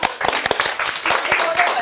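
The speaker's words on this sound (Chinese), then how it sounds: "我们还是一点掌声好不好" A studio audience claps during a fashion talk show, quick uneven bursts of hands that come and go in a short round.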